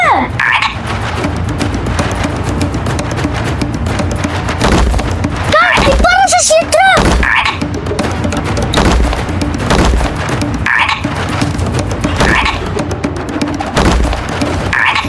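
Frogs croak in an Afrikaans animated children's series about a dinosaur island, with bursts of croaking amid loud speech, a booming thud and busy cartoon sound effects.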